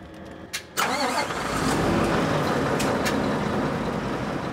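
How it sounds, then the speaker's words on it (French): A 730-horsepower truck engine cranks briefly and catches, then settles into a loud, steady low idle as it warms up early in the morning, with no voices. "faire chauffer les 730 chevaux de son camion"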